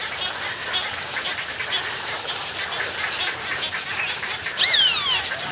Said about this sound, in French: Ils se foutent des coups de bec.